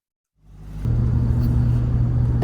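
A Range Rover Classic with a 3.9-litre Rover V8 starts rolling, its engine building from silence into a steady, loud, low rumble that holds evenly while the vehicle drives.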